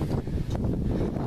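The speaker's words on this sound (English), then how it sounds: "It's really windy today." Gusty wind buffets the microphone with low, rumbling bursts, loud and close, with no other clear sounds.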